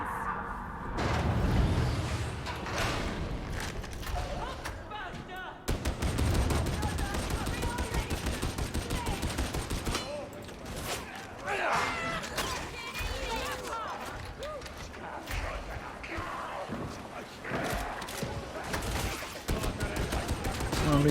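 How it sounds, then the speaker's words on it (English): Dense, continuous gunfire from Warhammer 40K Darktide, with rapid overlapping shots and bursts sustained close up throughout, alongside footsteps and other combat clatter. "Oh, I'm being shot at."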